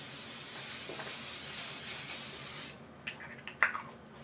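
Close, steady hiss of an aerosol makeup setting spray misted onto a face for about two and a half seconds, then it stops and only faint handling clicks and rustles follow.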